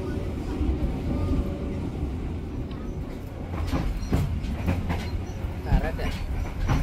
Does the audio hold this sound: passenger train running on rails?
yes